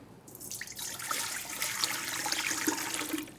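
Water rushes and splashes steadily into a mixing bowl as the first ingredient of a crispy dough for Portuguese rolls, a continuous gushing pour that swells and holds for a few seconds.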